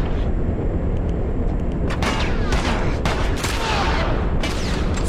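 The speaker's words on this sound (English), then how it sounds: "Where am I getting shot from?" Enemy gunfire in the video game The Last of Us, a dense, loud barrage of overlapping shots and cracks under a constant roar, with no talk over it.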